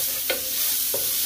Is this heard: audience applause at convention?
no